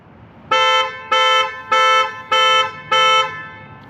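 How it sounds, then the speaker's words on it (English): A Mercedes car horn blares in five evenly spaced, loud honks, each about a third of a second, a rhythmic panic-alarm pattern triggered from the key fob, close by. "Now we have a panic button up top, press and hold."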